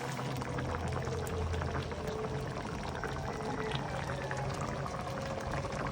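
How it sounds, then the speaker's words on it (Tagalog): Coconut milk pours into a cooking pot, a continuous close bubbling, gurgling flow with a steady simmering hiss, loud and unbroken for several seconds without speech. "Paliguan natin siya ng gata."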